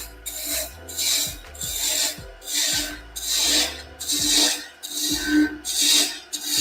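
Wood lathe gouge cutting a spinning blank while turning a ladle, rhythmic rasping sweeps about every half second with steady hum beneath, close and fairly loud, no voices.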